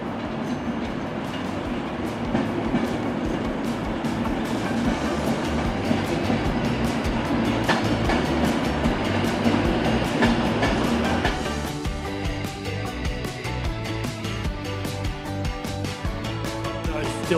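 A train at Manchester Piccadilly Station rumbles loudly and steadily, with rail noise and clatter throughout and a shift in tone partway as it keeps moving.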